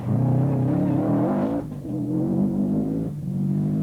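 A 1992 rally car on a Donegal International Rally stage works through a chicane, its engine loud and close, the note lifting off briefly and then pulling hard again.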